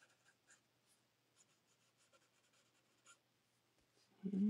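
Marker (a highlighter) coloring in the leaves of a flower drawing, giving soft, quiet scratchy strokes in short repeated bursts close up, ending in a louder bump.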